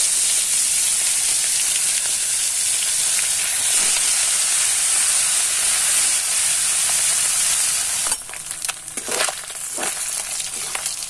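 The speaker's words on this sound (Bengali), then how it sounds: "কড়াইতে তেল গরম হয়ে গেছে, এবার মাছগুলোকে ভেজে নেব।" Fish sizzles steadily in hot oil in a wok for a Bengali fish curry, a loud, dense hiss that holds evenly for most of the clip before breaking into crackles and pops near the end.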